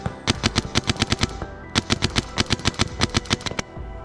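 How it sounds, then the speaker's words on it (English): An Eclipse EMF-100 paintball marker with a LAPCO barrel fires normal paintballs in a rapid stream of sharp pops. The shots come in two close, loud bursts separated by a short gap, with no talking. "We'll try it with normal paintballs now and see if that causes any breaks."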